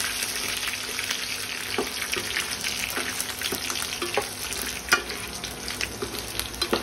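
Dried red chillies and garlic cloves frying in oil in a pan for Sundaka chutney, a steady bright sizzle with occasional pops and stirring scrapes, close and continuous, no talking.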